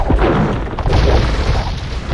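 Ship sinking in the Age of Empires 2 strategy game, a loud continuous booming explosion with a low rumble and crashing bursts, heard alone and filling the whole moment.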